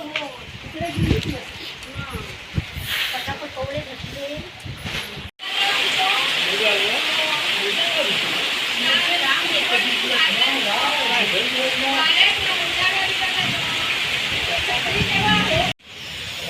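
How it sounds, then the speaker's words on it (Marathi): Stormy rain pours down in a Konkan village during a thunderstorm, a dense, loud, steady hiss of heavy rainfall filling the scene after a short stretch with a voice talking. "वादही पाऊस आलाय"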